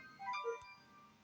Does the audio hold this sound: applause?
no